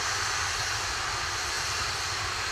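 An Atlas V rocket's main engine roars during launch, the NROL-101 ascent past Mach 1, as a dense, steady, unbroken rumble with no voices.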